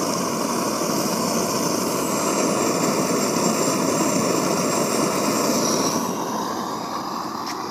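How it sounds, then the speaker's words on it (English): Propane burner roaring steadily in a homemade ceramic fiber raku kiln during a bisque firing, a constant broad rushing roar that holds even and close for the whole stretch. "I have bumped up my burner speed several times."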